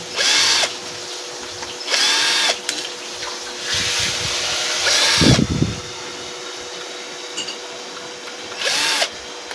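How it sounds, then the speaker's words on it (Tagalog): A cordless power drill runs in several short whirring bursts, one with a lower grinding pulse, backing out the four screws on the rear of a white PWM solar charge controller, close up with a steady background hum and no talking. "So, bubuksan lang natin guys yung apat na tornilyo sa likod."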